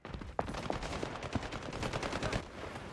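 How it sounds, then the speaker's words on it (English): Rapid bursts of automatic gunfire in the video game Highguard, dense and continuous with sharp cracking shots layered over one another for the whole stretch, loud and close. "Opening fire."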